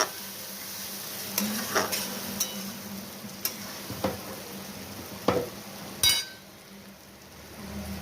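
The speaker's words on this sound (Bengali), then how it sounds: "টমেটোগুলো দিয়ে আমি নাড়ছি" Kashmiri tomatoes with pav bhaji masala stirred in a pan: a soft continuous sizzle broken by irregular scraping knocks of the spoon, with a sharp clatter near the end before it quiets.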